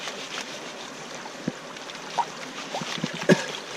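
Gravel and water being stirred in a gold pan beside a river, soft watery swishing and sloshing with a few small gritty clicks and splashes, close up and fairly quiet.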